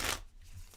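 Tarot cards are shuffled in one brief, soft riffle at the start, followed by quiet handling noise.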